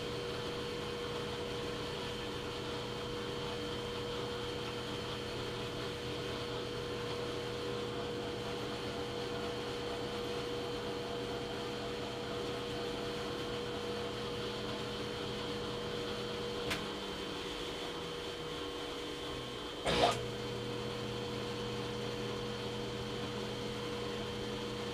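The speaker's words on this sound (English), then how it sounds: "Just a little quick power tap on the mill." A milling machine runs a power tap into metal with a steady mechanical hum and whine, the tone shifting near the end as the spindle changes, ending with a brief clunk.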